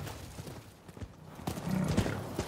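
Horse hooves clip-clop at a gallop in the samurai action game Rise of the Ronin, a steady rhythmic pounding that grows louder toward the end, with a brief whinny.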